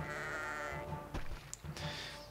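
Goats bleating in the video game Kingdom Rush, several nasal bleats in quick succession with brief gaps and a couple of soft thuds, fairly close and clear.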